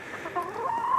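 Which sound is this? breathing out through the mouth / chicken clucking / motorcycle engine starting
chicken clucking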